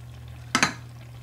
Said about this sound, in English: I just wanna make sure that my spaghetti is thoroughly stirred